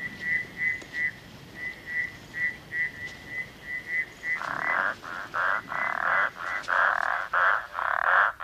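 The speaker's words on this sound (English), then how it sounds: "About 20 different kinds of frogs will breed at night in this pond." Frogs of about 20 kinds calling at night at a temporary rainy-season breeding pond in the African bushveld: a rhythmic series of short, whistling pulses, then a louder, denser chorus of croaking bursts joining in, close and alone.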